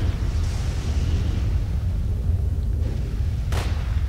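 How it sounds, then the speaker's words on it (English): Distant gunfire in STALKER: Call of Pripyat, faint muffled pops and rumbles under a steady windy ambient roar, with one sharper report near the end. "You can hear people still shooting."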